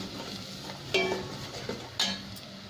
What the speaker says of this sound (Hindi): अच्छी तरह भून लेंगे।